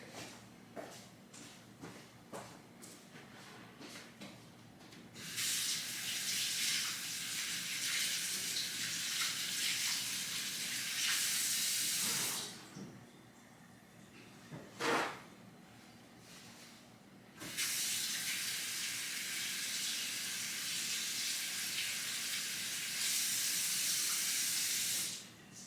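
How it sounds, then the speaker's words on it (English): A tap runs loudly in bursts to wet a beauty blender sponge, a broad hissing rush that starts, stops briefly, then resumes, over quiet room tone with faint ticking before the water begins. "let me wet my beauty blender"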